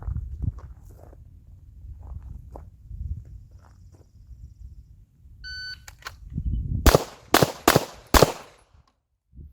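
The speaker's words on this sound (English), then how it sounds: "draw and fire 1 round on first target, 2 rounds on second target, 1 round on first target in 5 seconds" Handgun shots fired at targets on an outdoor shooting range during a law enforcement qualification stage, a quick burst of about four sharp, loud reports near the end after quieter shuffling and a brief beep.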